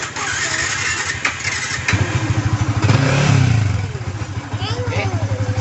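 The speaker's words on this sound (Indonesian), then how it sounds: "langsung kita hidupkan motornya." A rebuilt motorcycle engine is started nearby, catching after a few pulses and settling into a loud, smooth rhythmic idle with a brief swell, while someone speaks over it.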